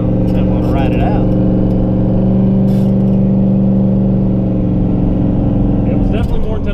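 A 1,000hp single-turbo Mustang pulls hard in third gear on a night street, its loud engine droning with a steady rising tone inside the cabin while people talk over it.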